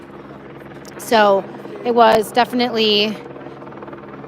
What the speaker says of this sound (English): Just not too long ago, the choppers came in.